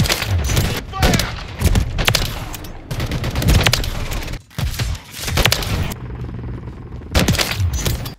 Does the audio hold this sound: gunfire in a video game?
yes